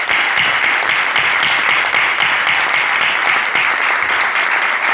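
Dense, sustained applause from a large audience at an archaeology lecture on Phoenician and Carthaginian military architecture, loud and steady throughout with no speech over it.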